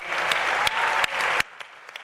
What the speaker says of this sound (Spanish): especialmente a la compañera Blanca Montoya, a quien pedimos un aplauso, por favor.